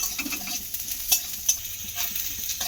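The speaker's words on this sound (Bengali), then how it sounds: "লঙ্কাটাকে দিয়েও বেশ একটু ভাজা করে নিলাম" Chopped green chillies fry in a pan, giving a steady oily sizzle with a few sharp pops and crackles over about three seconds. Nobody speaks.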